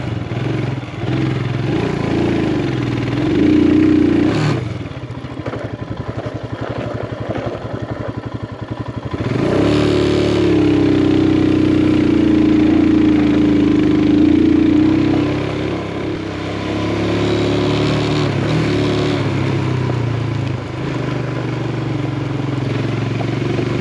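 A motorcycle engine labours on a steep climb toward the Serrasanta hermitage, revving up and easing off in long surges, with a loud sustained pull midway and clattering rough-track noise throughout, no voices.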